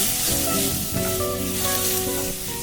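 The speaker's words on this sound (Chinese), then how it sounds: "再一次在炒锅内倒入油，等油烧热以后，就把拌好鸡蛋液的饭倒进来" Rice coated in beaten egg hits hot oil in a wok for egg fried rice, giving a loud, dense, close sizzle with crackling that holds for the whole moment.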